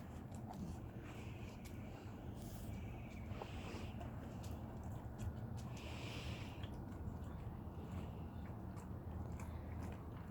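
Labrador retrievers chewing and crunching snack treats, a steady close mix of bites and mastication noises over a constant low background, with no talk.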